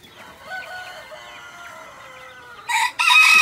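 Roosters crowing, a juvenile Black Copper Marans and a two-year-old Ameraucana. A drawn-out crow carries through the first part, then louder, harsher calls burst in close near the end, with no talking.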